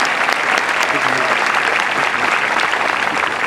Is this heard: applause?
yes